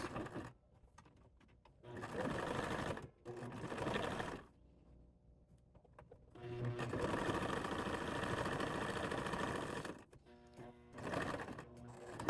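A sewing machine stitches along the edge of ribbon bag fabric in several bursts of rapid, buzzing whir, close and fairly quiet, separated by short pauses.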